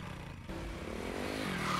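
Motorcycle in an action movie scene, a close engine rumble that starts abruptly and builds steadily louder as it revs over a couple of seconds.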